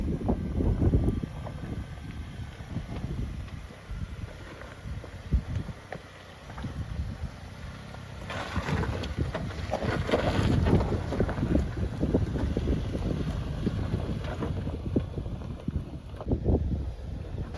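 Wind gusts across a high mountain pass on the Telluride side during a Jeep trip, roaring and buffeting the microphone in a steady, rumbling wash with louder surges partway through.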